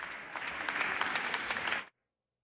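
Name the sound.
applause during fashion show runway walks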